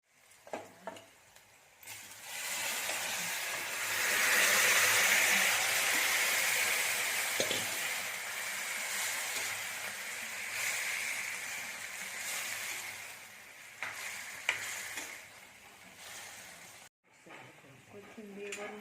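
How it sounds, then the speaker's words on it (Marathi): Cauliflower and pea dry vegetable sizzling in a pan with onion and curry leaves, stirred with a spoon scraping the metal; steady hiss rises and fades with occasional clinks, someone talking over it. "भाजी मिक्स करून घ्यायची"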